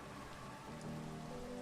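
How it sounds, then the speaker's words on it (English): Steady rain falls on a surface, a dense even hiss that stays close and constant throughout, with no voices. "Ow, it's raining."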